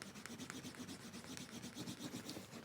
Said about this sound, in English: When you start to really get a good burnish,